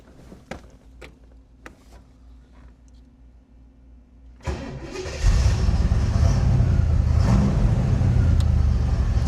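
A vintage Chevrolet Camaro engine cranks and catches after a few quiet seconds of faint clicks, then settles into a loud, steady rumbling idle close by.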